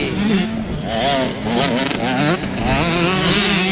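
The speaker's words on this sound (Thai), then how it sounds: "นี่คือนี่แค่125ซีซีสองจังหวะนะครับ เป็นรุ่นที่โตมาจาก85ซีซี" At a Thai motocross race, 125cc two-stroke motocross bikes rev and howl up and down through the gears, a loud close engine whine with shifting pitch that carries on without pause.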